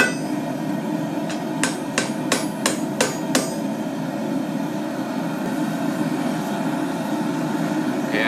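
Close, ringing hammer blows flatten hot steel while tongs are forged. Six sharp strikes land in a quick, even burst over a constant background drone.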